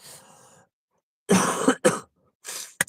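A few sharp coughs in short bursts close by, separated by brief silences, the last one clipped and abrupt.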